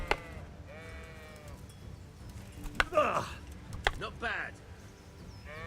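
Sheep bleat in the medieval game Kingdom Come: Deliverance, a few wavering calls spread through the scene with a sharp knock or two, while someone speaks briefly over the farmyard backdrop.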